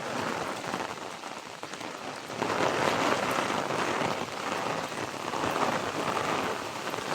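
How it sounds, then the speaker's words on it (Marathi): Heavy monsoon rain in the Konkan countryside, a dense continuous roar of downpour striking surfaces, swelling louder after the first couple of seconds and staying steady and close. "भयंकर असं पाऊस पडतोय,"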